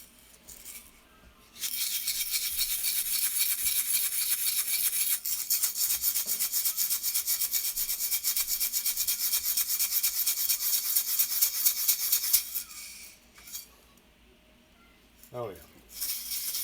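Old dug glass bottle being scrubbed with Barkeeper's Friend abrasive cleanser, producing a dense, rapid rasping scrub that runs steadily for about ten seconds, pauses, then resumes briefly; close and fairly loud.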